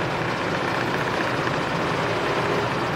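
A new, small work van drives along with its engine running. The engine gives a dense, constant drone with steady road rumble, loud and close the whole time, and no one speaks.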